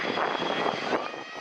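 A painted passenger airplane lands on the runway in Kaohsiung, its engines giving a loud, steady roar that fills the short moment.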